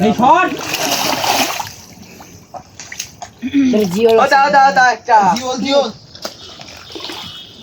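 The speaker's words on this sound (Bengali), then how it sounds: "মাছগুলো একটু ধুই থুইস কাদা কাদা অবস্থা" Muddy freshly caught fish (snakehead, catfish, climbing perch and taki from a drained village ditch) are washed in water, making a burst of close splashing and sloshing at first, followed by people talking over quieter water sounds.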